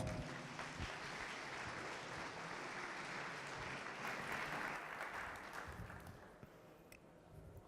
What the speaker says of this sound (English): big round of applause for Erik Meierhoff.